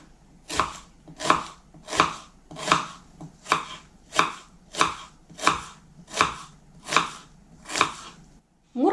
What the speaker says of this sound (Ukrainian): Цибулю нарізаю на невеликий кубик.